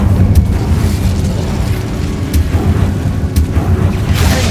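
A steady, heavy rumbling blast from the Incendio fire spell in Hogwarts Legacy, loud and sustained with a few sharp crackling pops, and no talking over it.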